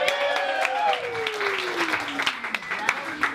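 Applause and crowd noise at a comedy show, scattered clapping mixed with shouting and a rising-falling vocal whoop, with voices carrying through the room.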